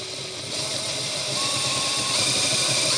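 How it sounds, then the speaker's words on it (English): A continuous close-up mechanical whir of a drill with a larger bit running for a few seconds on a guitar, steady and fairly loud with a rough grinding edge. "Now let's move up to a larger drill bit."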